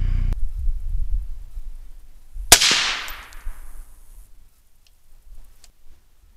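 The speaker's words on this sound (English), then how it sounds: "we just got done shooting the 224 Valkyrie" A single sharp gunshot from a .224 Valkyrie rifle at an outdoor range cracks out loud, with a short fading echo tail and no talk.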